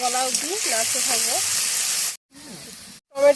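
Chopped tomato and salt go into a pan of frying onion, and a steady bright sizzle runs throughout while a voice talks over it, breaking off briefly twice.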